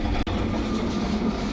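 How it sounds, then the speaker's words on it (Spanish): A tram rolls past close by on a Lisbon street, a steady rumbling rail clatter with a sharp click early on, no voices. "Y ahí se va el tranvía."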